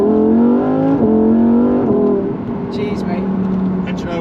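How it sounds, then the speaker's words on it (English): Lamborghini Huracan Evo convoy driving in Corsa mode, a loud engine note climbing in pitch and then dropping sharply at each quick gear shift, with voices briefly audible behind it. "those gear shifts in Corsa are pretty ludicrous"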